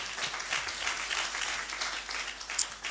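Congregation in a church applauding steadily, a broad even wash of many hands clapping at moderate distance, with one brief sharp accent near the end.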